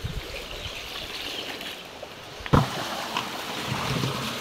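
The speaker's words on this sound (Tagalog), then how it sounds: "Ayan nga po at binabanlawan na po ni Kuya ng tubig." Water splashing and trickling as bayuko sea urchins are rinsed, a steady wet wash with a sharp splash midway and softer pours after, close by and without talk.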